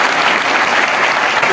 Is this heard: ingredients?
no